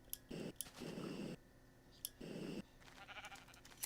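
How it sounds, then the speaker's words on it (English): Sheep in Minecraft give two short, loud bleats in quick succession, separated by brief pauses and a few faint clicks, with quiet game ambience between them. "There's a sheep over there"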